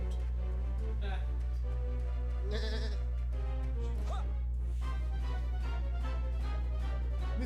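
Goat bleating in the Dragon Quest Monsters video game, a few wavering cries over steady game music with a loud low hum, and a voice talking intermittently across it.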